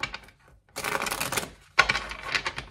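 Tarot card deck being shuffled by hand, two bursts of dense papery riffling and slapping separated by a short pause, close and fairly soft.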